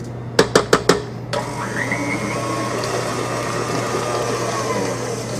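Four quick knocks, then an electric mixer starts up and runs steadily, whirring loud and close as it beats chocolate banana tart batter in a bowl, no talk.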